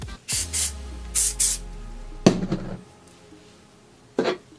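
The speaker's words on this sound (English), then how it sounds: "Dry texture spray." Several short hissing bursts of aerosol dry texture hair spray, in quick pairs, then a rustle of handling and one final spray burst, close and crisp.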